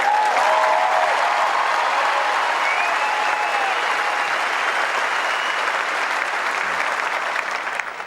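A packed Australian Open tennis crowd at the 2004 Henin-Hardenne versus Clijsters final applauds in a sustained, dense roar of clapping that carries on evenly and fades slightly at the end, with no talking.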